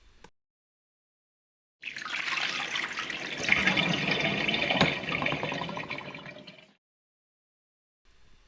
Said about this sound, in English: We're going to refresh its water by getting rid of its old water and adding fresh water into the pot.